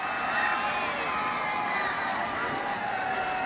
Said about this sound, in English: And listen to that Bears crowd.